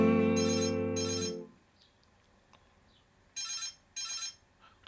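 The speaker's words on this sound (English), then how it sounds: "Just wait for that phone to stop ringing." A telephone rings in two bursts, first as a long electronic tone and then as two short chirpy rings, with near silence in the pause between.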